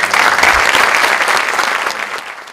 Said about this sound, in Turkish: seni alkışlarla buraya alalım